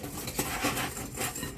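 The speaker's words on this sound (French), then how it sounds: "Pour commencer, je mélange sucre et œuf." A utensil stirs sugar and egg together in a bowl for crêpe batter, giving soft continuous scraping and light clinks against the bowl, close and fairly quiet.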